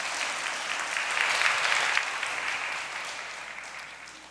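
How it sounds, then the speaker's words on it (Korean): An audience at a church gathering claps warmly and steadily to welcome a family to the stage, the applause swelling and then fading slowly, with no one talking. "정말 뜨거운 환영의 박수 한번 해주시면 감사하겠습니다"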